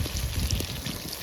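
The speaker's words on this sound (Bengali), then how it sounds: "এবারে জল দেবো পরিমাণ মতো" Water being poured into a simmering fish curry in a pot, a short soft splashing pour, close and low in level.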